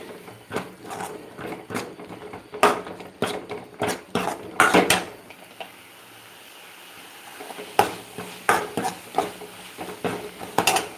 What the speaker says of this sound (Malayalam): ഉലുവാപ്പൊടി ശകലം ഇട്ട് ഇളക്കണം